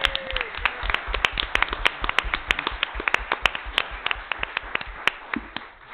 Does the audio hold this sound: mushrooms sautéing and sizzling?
no